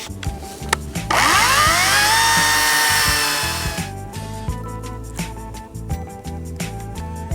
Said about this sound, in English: Chainsaw is doing pretty good so far.